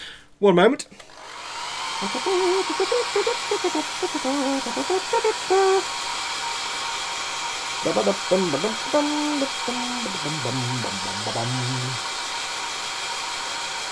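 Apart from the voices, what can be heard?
hair dryer blowing on model tank glue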